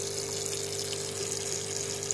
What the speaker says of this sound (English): there's water running in there at a high rate